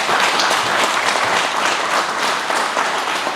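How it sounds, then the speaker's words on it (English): Audience applause at a fire academy graduation ceremony, dense and steady clapping from a large crowd filling the whole stretch at a constant level with no talk. "So let's all give them a round of applause."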